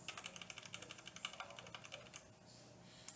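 Quick bursts of clicking from a Gateron Speed Silver mechanical keyboard switch, a rapid string of sharp, close keystrokes that thin out toward the end.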